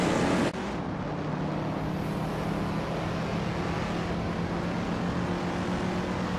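A 1970 Ford Mustang Boss 302 racing on the Seattle Circuit reverse track in a video game, a steady, loud engine drone with a faint held tone, opening with a brief sharper burst.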